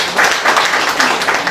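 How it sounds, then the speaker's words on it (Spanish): A seminar audience at a territorial-policy forum in Peru applauds a speaker, dense steady clapping held at an even level across the whole short stretch. "Un aplauso, por favor."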